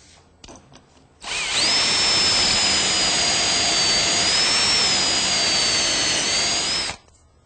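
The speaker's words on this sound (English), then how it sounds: "The pockets for the screws that are going to hold this together are drilled using a jig that's clamped in place and a step drill." A step drill bores screw pockets through wood held in a clamped pocket-hole jig, giving one loud, steady, high-pitched whine that runs for about six seconds, close up, with no talking.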